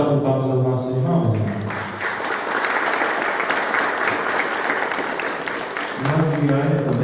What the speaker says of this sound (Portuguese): Uma salva de palmas aos nossos irmãos.